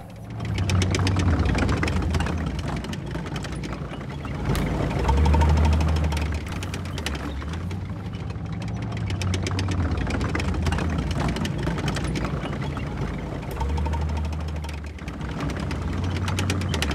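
Israeli tanks' heavy engines rumble continuously in Gaza, a deep, steady mechanical drone with low throbbing surges that swell and fade as vehicles move nearby.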